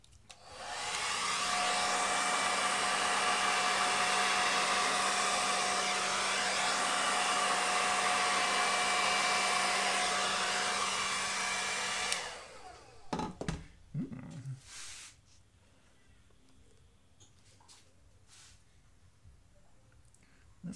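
Hair dryer blowing steadily on a poured acrylic Dutch Pour painting with metallic paint, a loud continuous whoosh with a faint whine lasting about twelve seconds, then cutting off into quiet clunks and handling noises.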